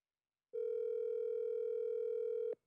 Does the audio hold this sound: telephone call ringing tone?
yes